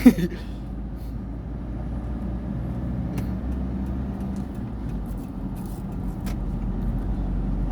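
An Isuzu 1.9 pickup with a newly replaced differential drives along, its engine and road noise a steady low rumble from inside the cab, with a sharp knock at the start and faint clicks along the way.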